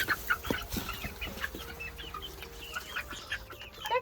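Chickens on a small backyard farm cluck in busy, overlapping bursts, close and moderately loud, with a few sharper squawks over a steady low farmyard hum and no talking.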